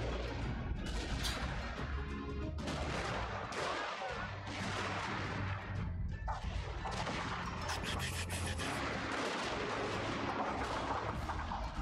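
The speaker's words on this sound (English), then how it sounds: "Your artillery is pushing it." Artillery fire booms and cracks repeatedly in a large Total War battle, a dense barrage of overlapping shots and rumbling impacts that keeps going without pause, loud and chaotic with no talking over it.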